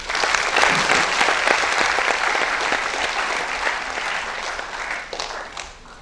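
An audience applauds at a school education society's felicitation day, a full, sustained round of clapping that starts strong and slowly tapers off toward the end.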